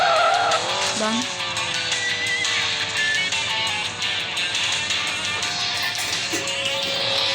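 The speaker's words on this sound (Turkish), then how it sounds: "Size bir drift yaptım." A car drifts in the racing game Rally Fury, its engine revving loudly and steadily while the tires squeal and skid through the turn.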